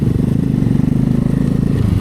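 Motorcycle engine revving and labouring as the bike slips through soft, loose sand on a motocamping trip to Lake Mapanuepe; a steady, loud, close rumble with rapid pulsing throb throughout.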